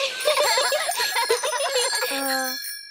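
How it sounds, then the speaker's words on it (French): A cartoon bicycle bell from Peppa Pig rings rapidly several times in a bright, close trill, then a final ding fades out into silence. "Pouvez-vous nous montrer que vous savez faire marcher votre sonnette?"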